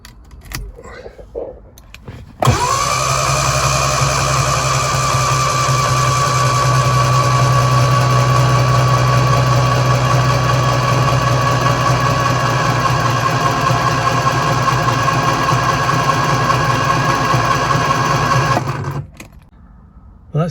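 A Lotus Elan engine with its spark plugs removed is cranked over by the starter to build oil pressure, giving a steady, even churning whir that runs unbroken for about sixteen seconds and then stops.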